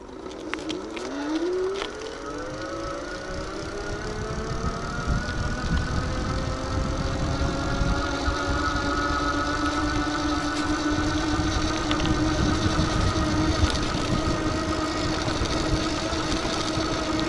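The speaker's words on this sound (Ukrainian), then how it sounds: "Натискаємо курок до кінця і піднімаємося" MXUS 48V 500W electric bike hub motor climbing a hill at full throttle, a steady whine rising in pitch over the first couple of seconds, then holding a sustained tone over continuous rushing and rumbling noise.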